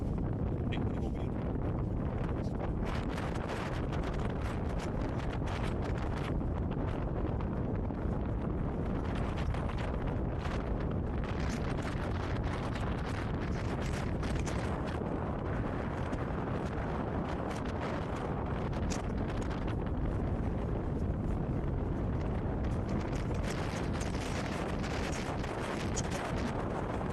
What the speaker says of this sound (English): That's radically windy.